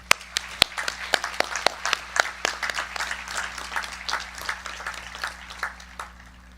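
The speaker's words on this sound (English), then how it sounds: "Another round of applause, please." Audience applause at a 2020 senior high school graduation ceremony, a steady crowd of clapping with sharp individual claps standing out near the front, sustained for several seconds with no talking.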